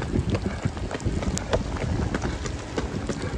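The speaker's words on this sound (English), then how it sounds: "Windy." Steady gusting wind buffets the microphone during a 5K parkrun with a rough, continuous rumble, and faint rhythmic running footfalls sound beneath it.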